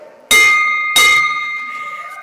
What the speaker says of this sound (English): I will ring the bell for Michael Bruck too